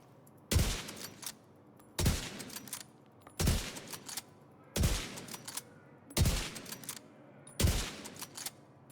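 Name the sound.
weapon firing rapidly in a video game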